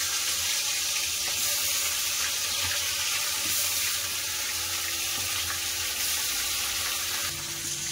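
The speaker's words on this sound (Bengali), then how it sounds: "প্রথমে মাথা দুটো ভেজে নেব।" Steady, loud sizzling and crackling of fish heads frying in hot mustard oil in a wok, continuous throughout with no voices.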